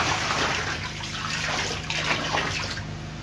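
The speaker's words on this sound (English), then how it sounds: "I'm going to pour the mixture inside the tank" Tetracycline mixture poured into a catfish tank, giving a steady, full gush of splashing water that runs continuously at close range.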